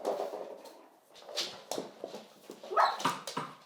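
Dogs play in a workshop, with sharp barks, yips and whimpers coming in uneven bursts from nearby. No one speaks.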